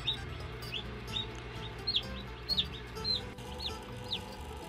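Newly hatched chicks peep in a series of high, short chirps, about a dozen repeated calls at a fairly even rhythm, close but soft over a low hum of background noise.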